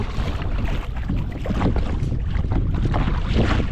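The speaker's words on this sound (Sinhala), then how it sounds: "ඔබට ඇහෙනවා මේ රැලි කයක් එකේ බඳේ වැදිලා කැඩෙන සද්ද" Lagoon waves slap and break against a kayak hull on a wide open stretch of water, a steady wash of sloshing and splashing with gusty wind buffeting the microphone throughout.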